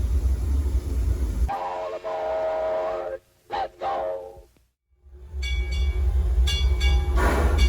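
A Six Flags Over Texas Railroad train rumbles close by and sounds its whistle in several blasts, with a brief near-silent gap before the heavy rolling noise returns.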